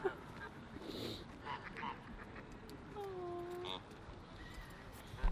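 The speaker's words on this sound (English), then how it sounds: "I'm getting ambushed by the ducks." Ducks and geese honk and quack in a few faint calls at some distance, mixed with outdoor background noise and a person speaking nearby.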